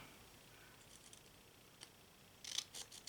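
Scissors snip through paper in a few short, quiet cuts, with a faint cluster near the start and sharper, closer snips toward the end against a near-silent room.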